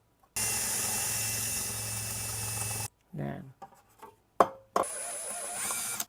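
A power drill bores a small hole in a BYD license plate adapter, a steady whining grind for a few seconds, then short bursts and another run, with handling clatter and a brief spoken word between.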